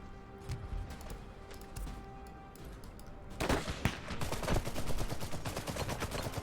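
SMG fire in the Iron Harvest video game: faint, scattered shots at first, then denser rapid bursts of automatic gunfire that crackle continuously in the background.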